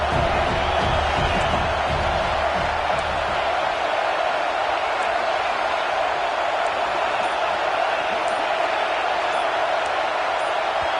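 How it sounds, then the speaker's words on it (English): Stadium crowd in a Madden football video game, a steady loud wash of roaring fans with no breaks, constant and even throughout. "It's early, but this crowd is fired up. Listen to this noise here."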